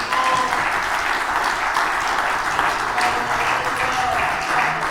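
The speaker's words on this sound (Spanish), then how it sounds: "Dele un aplauso al Rey" Steady congregation applause at a church service, continuous dense clapping at moderate volume throughout.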